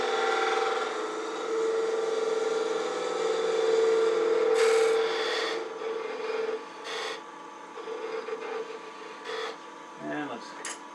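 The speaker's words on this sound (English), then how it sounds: "I'm going to use this pointed detail gouge so I can get in here easily." A pointed detail gouge cuts into an ash workpiece spinning on a wood lathe, giving a steady scraping rasp with a humming motor beneath. The cutting swells, then breaks into short scrapes near the end.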